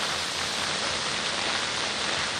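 Steady, dense rain falling in Punjab, a continuous close hiss of drizzle and drops that stays evenly loud for the whole short stretch, with no voices.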